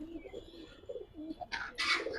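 Soft, low coos from Giribaz pigeons close by in a loft, followed by a couple of short rustling bursts like wings or movement.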